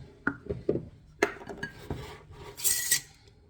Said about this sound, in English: You're going to add another cup of flour. You're going to stir it in.